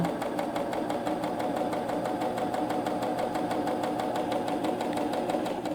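A cover stitch sewing machine runs steadily while stitching a hem sample, giving a fast, continuous mechanical whir with rapid even needle beats, close and loud with no pauses.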